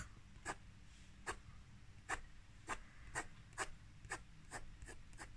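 A pencil scratches hard against paper while drawing black fur, in a steady series of short, crisp strokes roughly every half second, close and fairly quiet, with no speech.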